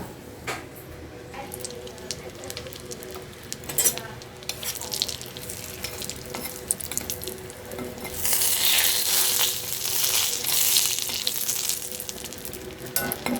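Food frying in a little oil in a pan, a steady sizzle with occasional stirring scrapes that swells louder toward the end, heard up close with no talk.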